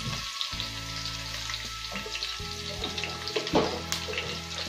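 Onions and green chillies frying in a pan for a brinjal fish curry, a steady close sizzle with a few brief clatters and a low background hum, no voices.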